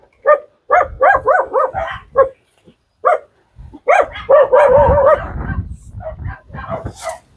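A dog barks in repeated short bursts, fairly close, with a few higher yips and whimpering tones mixed in.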